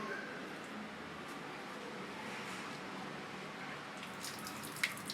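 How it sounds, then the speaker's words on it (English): A sink faucet is turned on and water runs in a steady, faint hiss while an infant tub bath is being prepared, with a small clink near the end. "So we're going to turn on the faucet with paper square."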